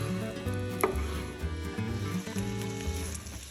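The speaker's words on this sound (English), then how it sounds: "we're gonna chop the salmon into little pieces" A kitchen knife chops raw salmon into small pieces, with a few sharp cuts standing out, including one loud knock, over a low background hum and faint sizzling.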